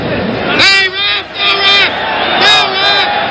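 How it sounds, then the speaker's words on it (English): Boxing arena crowd at the Jimmy Young vs George Foreman fight erupting in loud, swelling roars and shouts, with sharp screams rising in bursts over a constant hubbub of voices. "Screams from the corner, and the crowd reacts."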